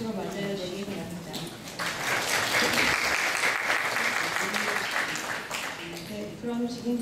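Sustained audience applause in a forum hall welcoming an architecture professor as debate moderator, steady clapping swelling then easing, with brief voices at start and end.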